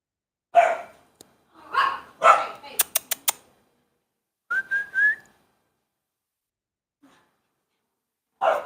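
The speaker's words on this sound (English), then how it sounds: "Guys are picking on a little puppy over there." A little puppy gives several short barks and yelps in a quiet setting, with sharp whistles and a rising whistled tone between them, loud and near.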